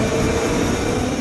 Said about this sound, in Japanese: 201系が今出発